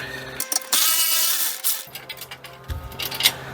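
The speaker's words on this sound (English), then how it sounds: "we're going to drill through the floor." Power drill boring holes through the steel floor of a VW Beetle, a brief high whining burst followed by scattered clanks and scraping of tools and metal close by.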